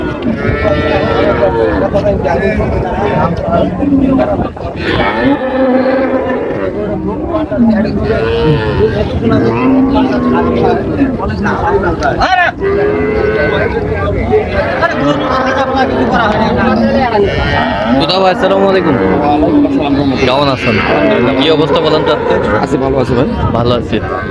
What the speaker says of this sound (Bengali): গাভী দেখছেন